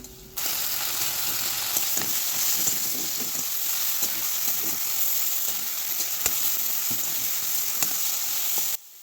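Ginger-chili paste and softened tomatoes for kohlrabi ghonto stirred in a frying pan, a constant sizzle with light irregular spoon scrapes and taps throughout, no talking.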